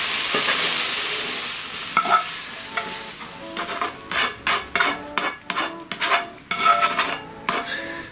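Lamb frying in an easy-clean non-stick pan on a gas flame, with a soft sizzle beneath a run of close scraping and clattering strokes as the meat is stirred, growing busier and more rhythmic toward the end.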